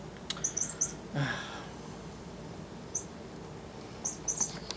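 Chirping toy dinosaur being played with by a pet, giving short high squeaky chirps in a few quick clusters, near and fairly faint over quiet room noise.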